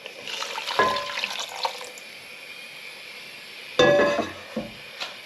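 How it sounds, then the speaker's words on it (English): Homemade beef stock poured into a frying pan for a beef ragu, a splashing, trickling pour in two bursts with a pause between, close and moderately loud with no talk. "So this stock is now going in."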